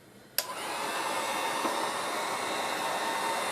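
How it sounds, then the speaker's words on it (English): A heat gun on its low setting blows steadily while drying fake puke prop material, switching on abruptly with a sharp onset and then holding a constant close, hissing airflow roar to the end, with no voices. "I'm going to speed up the process a little bit using the heat gun on low"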